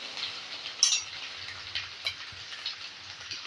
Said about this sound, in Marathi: आपण फोडणीतच ओला नारळ परतून घ्यायचा आहे